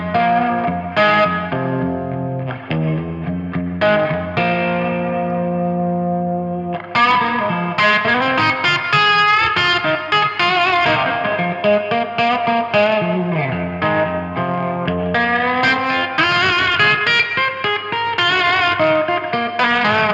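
Overdriven electric guitar, a Fender Stratocaster through a Nux pedal, plays a bluesy run of bends and chords, warm and gritty with a slight shimmer, continuous and fairly loud.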